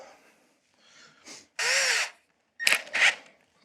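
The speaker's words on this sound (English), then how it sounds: "So we're going to just do a quick drill, quickly drill these holes," A power drill bores holes in wood while fitting a TV wall mount in a studio build-out, with two or three short, loud whirring bursts separated by pauses.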